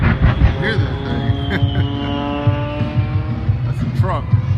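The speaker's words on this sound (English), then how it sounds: "That's a truck making all that smoke back there." A jet-powered truck roars and whines at a Blue Angels air show at NAS Pensacola, a loud continuous blast with a shifting pitch under a public-address announcer's voice.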